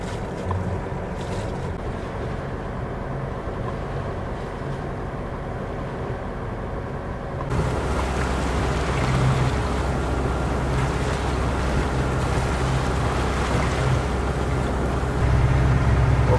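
A sailing boat under way at sea after weighing anchor, bound along the coast: continuous rushing water and wind noise against the hull, steady and loud, with a low engine-like rumble that grows stronger partway through, no voices.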